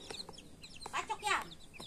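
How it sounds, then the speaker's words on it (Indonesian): Newly hatched chicks peep in high, thin chirps while a small child plays with them, with soft scattered calls over a busy background of faint voices and movement. "Ada anak ayam yang baru menetas teman-teman, punya Mimi."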